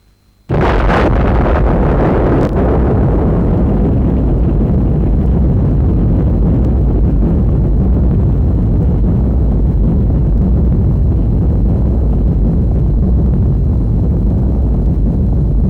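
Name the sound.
atomic bomb explosion over Nagasaki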